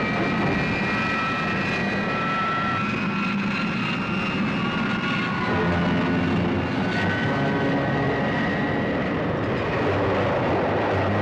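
Thunderbird 2 dives with its engines roaring, a loud, sustained, droning jet roar with shifting whine tones that holds steady throughout, no talk over it.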